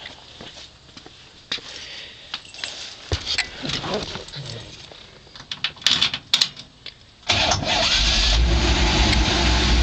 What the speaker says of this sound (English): Now I'll start the car up.